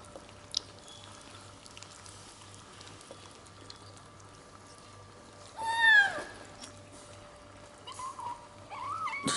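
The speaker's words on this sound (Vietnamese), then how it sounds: "Vậy là bữa trưa của bảy chú mèo." Seven young kittens at lunchtime give one clear meow and some faint mewing over a quiet background hum, with small clinks and rustles from eating.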